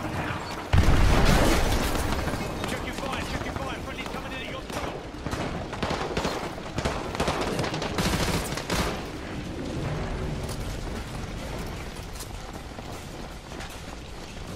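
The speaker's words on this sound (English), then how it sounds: "Those explosions are gonna attract a lot of attention." Explosions and gunfire in the Call of Duty MW2 remastered campaign, on a winter sniper mission: a loud boom opens, followed by repeated sharp bursts of shots and rumbling blasts that fade slowly, with game dialogue mixed in.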